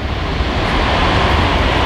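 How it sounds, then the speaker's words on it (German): Airplane passing overhead, a loud steady broadband engine roar filling the whole stretch with no variation, outdoors. "Ah, Flugzeug."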